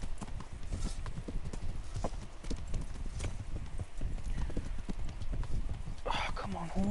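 Horse hooves clip-clop in a medieval setting in the Kingdom Come: Deliverance video game, a continuous trotting clatter with a brief whinny near the end. Someone talks over the hoofbeats.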